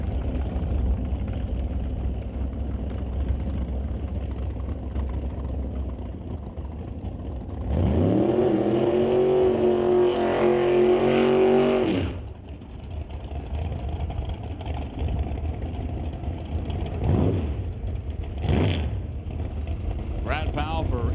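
Drag racing cars at Mission Raceway Park, including a 582 cubic inch Chevelle: a loud engine revving hard for several seconds with a rising pitch, then a cut-off, followed by lower rumbling engines and brief bursts under an announcer's voice.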